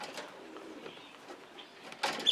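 Small corona pigeon hens coo softly in a shed, giving low, gentle murmuring calls with faint rustling. The cooing is quiet and close, and a brighter burst comes near the end.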